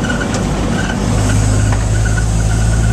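A 1948 Dodge truck engine pulls hard in fourth gear, a loud, steady low drone that swells as it accelerates, with no talking over it.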